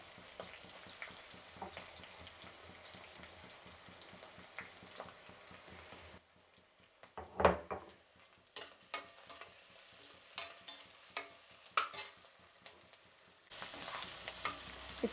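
Crushed garlic, curry leaves and onion fry in a pan of oil for a lentil dish, giving a steady close sizzle that softens partway through into quieter crackling broken by sharp stirring clinks.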